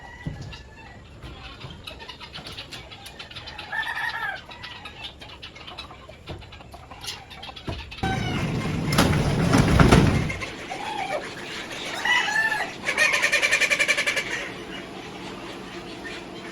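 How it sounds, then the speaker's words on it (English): Roosters in a free-range poultry barn coop give repeated clucks and crowing calls through the clip, with a loud rustling burst near the middle and steady barnyard noise underneath. "we're gonna open up the cockpit, which is full of roosters"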